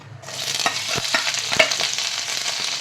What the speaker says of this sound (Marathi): आता तेलात आहे ना दोन्ही छान परतून घेऊयात